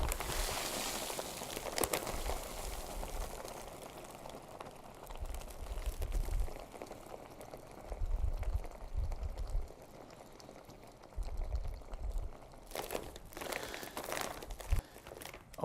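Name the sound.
comet mixture with dry ice squeezed, crinkling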